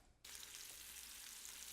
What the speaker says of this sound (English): I could hear that sizzle already